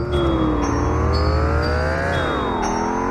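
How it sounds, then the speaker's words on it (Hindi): Cartoon car engine hums steadily and loudly, its pitch drifting up and down as it drives, with no voices over it. "गाड़ी को मिस्टर मीट के घर पर ही ले चलो"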